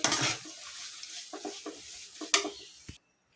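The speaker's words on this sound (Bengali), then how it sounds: "এবার ঢেলে দেব সুজিগুলো।" Semolina pours into a pan for halwa with a loud rushing hiss, followed by a run of clinking spoon strokes against the pan and a sharp final scrape before sudden silence.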